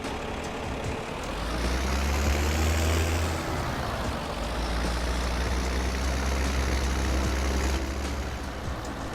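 A tractor engine in the video game Farming Simulator 2017 drones steadily and loudly throughout, a continuous low rumble whose pitch rises and falls as it works, with no talking over it.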